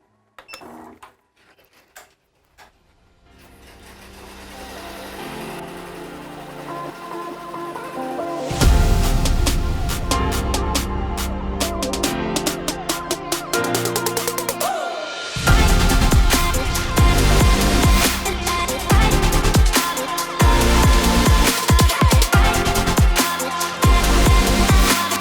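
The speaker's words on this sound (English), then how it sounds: "So I'm gonna go ahead and run it a little bit slow at 700 stitches per minute." A home embroidery machine stitches a graduation cap design at a slow 700 stitches per minute, a loud rapid mechanical clatter that starts after a quiet stretch, pauses briefly midway and resumes.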